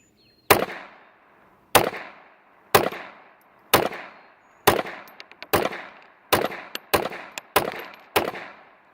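Gunshots from a .22 LR rifle firing Armscor ammunition at an outdoor ammo test, about a dozen sharp cracks with short decays, evenly spaced at first and then coming faster and closer together, clear and alone.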